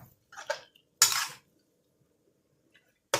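Cabbage stir-fried in a pan, with a spatula striking and scraping the metal in three short clattering bursts separated by near silence.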